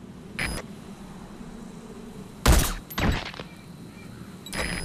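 Sniper fire in the game Metal Gear Solid V comes as a few sharp, loud shot bursts, one near the start and a cluster in the middle, separated by quiet stretches with a faint tonal hum.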